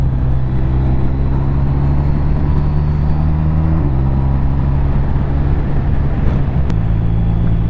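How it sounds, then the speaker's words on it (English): A BMW R 1250 RT touring motorcycle rides at steady speed, its engine droning loud and close under heavy wind rush, with a couple of abrupt pitch steps as the quick shifter changes gear. "Quick shifter up and down."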